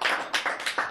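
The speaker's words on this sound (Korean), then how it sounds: "박수해야지." About five quick, sharp claps from a small group sound during a Korean Bible lecture, evenly spaced and close.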